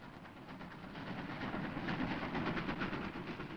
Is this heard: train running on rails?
yes